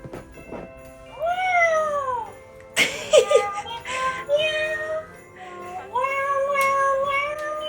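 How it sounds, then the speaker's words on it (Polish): Electronic toy cat meows repeat several times, high and synthetic with sliding pitch, triggered by pressing its paw, broken by a brief clatter partway through. "Naciśnij raz łapkę, aby aktywować ponad 10 dźwięków, w tym śpiew, miauczenie i inne."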